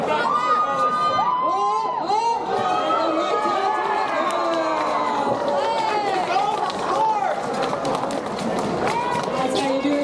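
A crowd at a knight fight at Fan Expo Toronto 2023, shouting and cheering loudly and steadily around an announcer's voice, with excited overlapping calls and chatter throughout.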